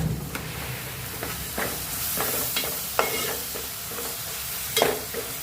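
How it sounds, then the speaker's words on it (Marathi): Ginger, garlic and chili paste sizzling with softened tomatoes in a pan, a steady frying hiss broken by scraping stirs and a few sharper clinks, close and fairly loud with no talking. "आता आपण हे टाकणार आहोत एक चमचा अद्रक लसूण व मिरचीची पेस्ट"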